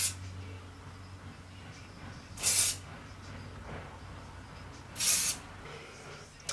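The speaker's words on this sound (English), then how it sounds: "do a final spray with the hairspray" Hairspray sprayed onto styled hair in two short hissing bursts a few seconds apart, close and fairly loud, over a quiet room background.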